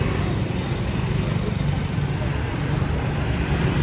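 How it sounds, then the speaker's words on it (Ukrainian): Dense, steady street traffic in Vietnam roars close by, a continuous wash of car and motorbike engines with no pauses. "Шум, байки, машини"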